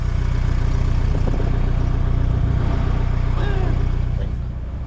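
A truck engine idles with a steady, deep rumble heard up close, constant throughout with a faint voice briefly over it.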